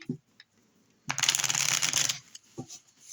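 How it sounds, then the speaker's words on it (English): A deck of oracle cards shuffled in one quick riffle lasting about a second, with a few soft taps and handling sounds before and after. "if you want, you can just shuffle them in"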